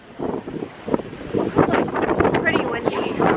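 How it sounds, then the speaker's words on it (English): Strong wind buffets the microphone on the Gold Coast of Australia as a thunderstorm approaches, a steady rumbling roar with gusty swells throughout, with voices faintly mixed in. "pretty windy"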